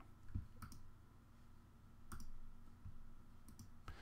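Computer mouse buttons clicked while editing icons in a graphics program, giving a few sharp, quiet clicks spaced irregularly over a soft background hum.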